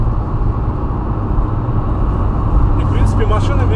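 Turbocharged Lada Kalina accelerating, a loud, close, low engine drone heard from inside the car, with a voice speaking over it near the end.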